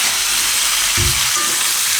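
Chopped green tomatoes tossed into a pan of frying potatoes for a Gujarati sambharo, a steady loud sizzle with a soft thump as they land and a brief stir.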